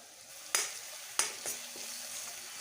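A spoon stirs turmeric, salt and crushed spices in a hot pan for kadhi, with two sharp clinks against the metal and a low steady sizzle in between, close and without talk.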